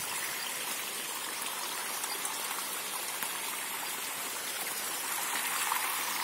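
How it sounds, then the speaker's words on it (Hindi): Irrigation water runs steadily to young jackfruit plants on a farm in Rajasthan, a continuous close-up trickling wash with no pauses and no voices. "पानी दिया जा रहा है।"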